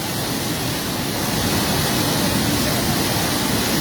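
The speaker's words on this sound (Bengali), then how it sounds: "জালালাবাদের বাঁধ ভেঙে প্রচণ্ড পানি ঢুকতেছে।" Floodwater rushes through the broken Jalalabad embankment on the Khowai River in Habiganj after two days of rain, a loud, steady, unbroken roar of churning water close by.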